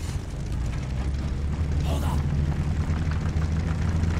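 A tank rumbles past in a Call of Duty: Vanguard desert convoy scene, heavy low engine drone and mechanical clatter, close and loud, with a voice speaking over it.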